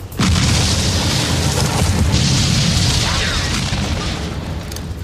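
Grenade explosion in a French Metal Gear Solid parody: a sudden loud boom hits right at the start, then a long rumbling roar of blast and debris that slowly fades, dense and close.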